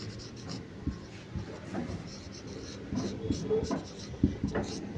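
Pen or pencil writing by hand on paper during a primary-school maths lesson, with short scratchy strokes in irregular bursts, fairly close and moderately quiet against faint room noise.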